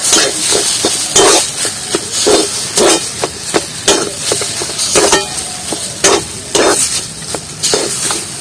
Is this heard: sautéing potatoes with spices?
yes